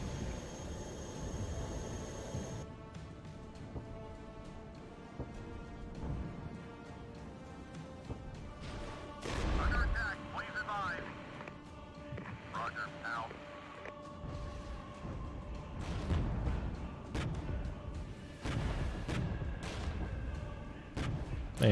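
Bradley fighting vehicles fire in a Regiments battlefield skirmish, a series of loud booming shots and bursts with rumbling vehicle and battle noise between them, spread irregularly across the scene.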